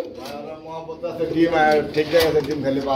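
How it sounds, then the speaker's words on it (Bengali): Black tail-mark pigeons coo in soft, repeated throaty bursts close by, with people talking alongside them. "এটা কি কবুতর? টেলমার্ক, ব্ল্যাক টেলমার্ক।"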